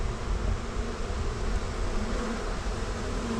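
A dense swarm of flying honey bees buzzes loudly and continuously during a bee rescue, forming a thick, close, unbroken drone with no voices.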